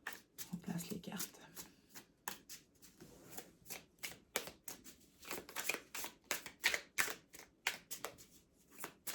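Tarot-style cards handled, shuffled and laid out for an intuitive reading, producing a steady run of crisp flicks and soft slaps close up, with a person talking quietly underneath.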